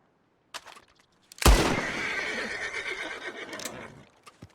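Horses in the Red Dead Redemption 2 video game give a loud, close whinny after a few faint knocks, then the shrill neigh trails off over about two and a half seconds.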